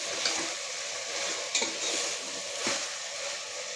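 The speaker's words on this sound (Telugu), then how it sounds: "ఇప్పుడైతే కొద్దిసేపు తిప్పుకొని ముక్కలు చక్కగా కారంలో వేగానండి" Vegetable pieces for sambar fry in oil with chili, salt and turmeric, giving a steady close sizzle broken by a few scraping stirs of a spoon against the pan.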